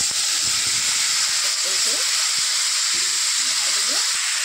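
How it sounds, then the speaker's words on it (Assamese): Panch phoron and two bay leaves go into hot oil in a kadai, giving a loud, even hiss and sizzle throughout, with a voice talking faintly underneath. "এতিয়া মই কেৰাহীত পাঁচফোৰণ দি তেজপাত দুটা দি দিলোঁ"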